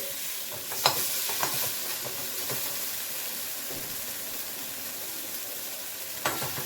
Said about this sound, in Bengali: এরপর আমি একটু কষিয়ে নিয়ে, আদাটা যেহেতু দিয়েছি,